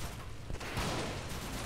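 Gunfire in the real-time strategy game Blitzkrieg 3 comes as a dense, muffled volley of overlapping shots and booms at moderate distance, continuous over a brief stretch with no talk.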